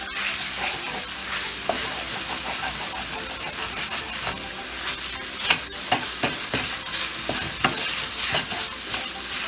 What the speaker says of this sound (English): Cooking that steak.